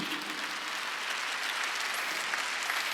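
Church congregation applauding during a Wednesday worship service, a continuous, softly blended roar of many hands clapping, steady and somewhat distant in a large room.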